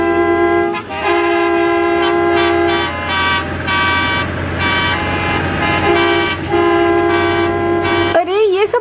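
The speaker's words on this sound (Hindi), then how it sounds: "ये सब हॉर्न क्यों बजा रहे हैं?" Cartoon traffic scene with car horns honking repeatedly in long and short toots from several vehicles, loud and close, ending in a brief wobbling sound effect.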